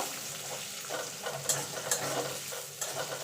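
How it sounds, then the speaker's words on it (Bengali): Chopped onion frying in a pan for a Bengali spinach-stem and fish-head chhechra: a soft, steady sizzle broken by sharp scraping clicks of stirring every half second or so, close and fairly quiet. "এবার পেঁয়াজটাকে একটুখানি ভেজে নেব"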